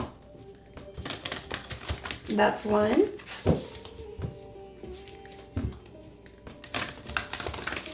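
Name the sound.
shuffling a deck of cards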